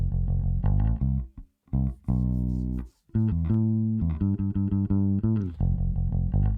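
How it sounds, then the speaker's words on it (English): Clean, dry bass guitar playing a melodic line, close and clear, with brief pauses between phrases. "Let's hear the bass without any treatment to it. This is the raw bass."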